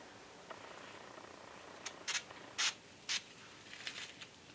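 A facial setting spray mists in several short, soft hissing bursts, roughly four quick sprays close by in a quiet room, followed by faint rustling.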